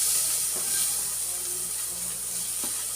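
Onions and green chilies frying in oil in a pan while cooking an eggplant-tomato dry curry, a soft steady sizzle and hiss held at low level throughout, with a few faint clinks and no voices.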